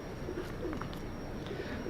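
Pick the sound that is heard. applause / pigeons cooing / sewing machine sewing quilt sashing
pigeons cooing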